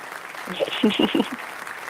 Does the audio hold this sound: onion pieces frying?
no